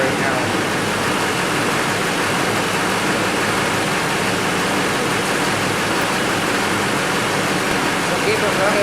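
A Duramax diesel truck with an Allison transmission sits idling in park, a steady, loud broadband engine rumble that holds constant throughout with no change in pitch.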